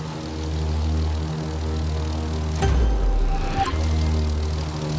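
Propeller airplane engine in The Crew 2 racing game during an air drift, a steady droning hum that briefly surges with a rushing burst midway before settling back, alone without talk.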